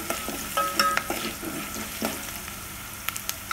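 Onion masala with turmeric stir-fried in a pan for a street-style masala dosa potato curry, a close, even sizzle with quick spoon scrapes and taps against the pan.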